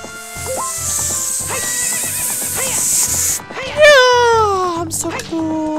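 A horse in a Zelda video game neighs loudly in a long descending whinny, followed by clip-clopping hooves and another brief neigh, with a person talking over parts of it.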